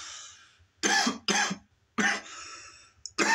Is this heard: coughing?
yes